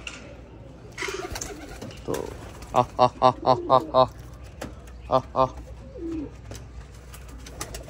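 Pigeons at a pigeon loft coo in a series of rhythmic, throaty bursts, close and fairly loud, with someone talking intermittently in between.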